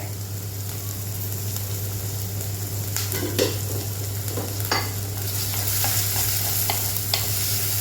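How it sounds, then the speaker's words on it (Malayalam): Onions with a little salt sautéing in a pan, a steady close sizzle broken by scraping stirs and clinks of a utensil against the pan, with a low constant hum underneath and no voices. "സവാളയുടെ പച്ചച്ചുവയൊക്കെ മാറുന്നത് വരെ നമുക്ക് വഴറ്റിയെടുക്കാം"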